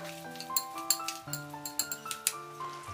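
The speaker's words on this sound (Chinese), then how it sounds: "先用筷子将它拌匀" Chopsticks click and tap repeatedly against a large bowl as boiled sweet potato noodles are mixed, a quick irregular series of small clinks over faint background music.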